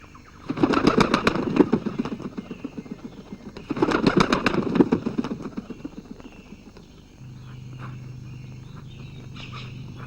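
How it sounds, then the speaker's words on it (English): A roly-poly bird in a children's animated tale bursts upward in two quick rounds of rapid wing flapping, close and fairly loud, before it settles into a quieter, steady low hum. "The roly-poly bird gave a shriek of terror and shot straight up into the air"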